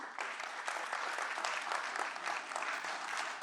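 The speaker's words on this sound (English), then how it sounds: "a round of applause to my panelists" Conference audience applauding panelists after a session on renewable energy policy, even dense clapping at moderate distance that holds steady throughout, with no voices.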